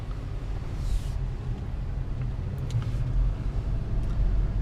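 A 2019 Infiniti QX50 cruising on a Texas road between Austin and Dallas gives a steady low tire and road rumble with mild wind noise inside the cabin, continuous and even throughout.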